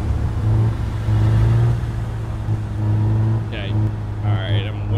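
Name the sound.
car engine driving in video game Big Ambitions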